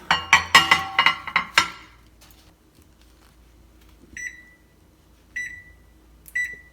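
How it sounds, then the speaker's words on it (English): A microwave oven heating steamed prawns makes a run of loud clunks and clatters as the door and tray are handled, then three spaced electronic beeps ring out clearly in a quiet room. "I am going to keep it in the micro oven."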